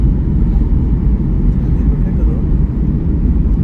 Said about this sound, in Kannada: ಲ್ಯಾಂಡ್ ಆಗ್ತಿದೆ ಫ್ಲೈಟ್